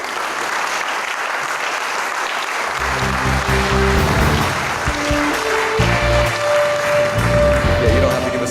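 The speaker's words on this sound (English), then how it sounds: "I want you to give him a round of applause" Dense applause from a large audience at a university athletic hall of fame ceremony fills the space, steady and loud, with a few sustained musical tones rising underneath partway through.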